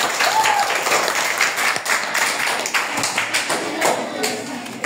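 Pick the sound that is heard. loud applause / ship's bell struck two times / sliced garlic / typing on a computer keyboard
loud applause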